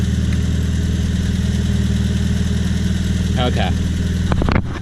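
Triumph Spitfire engine idling on the choke at just over 1,000 rpm, a steady low throbbing rumble running throughout, with a brief spoken word near the end.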